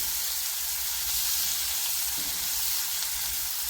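Onions sautéing in a pan with salt and green chili for a Malayalam onion curry, a steady close sizzle and fry hiss running unbroken for the whole stretch, with no voices.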